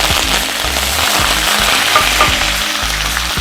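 Cumin seeds and curry leaves sizzling and spluttering in hot oil for a tomato chutney tempering, a steady, close, loud hiss with crackling pops throughout and no voices.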